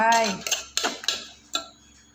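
Mama instant noodle salad with fresh shrimp and mussels is tossed in a bowl, producing a few close, sharp clinks and knocks of utensil against dish, with a voice heard briefly at the start.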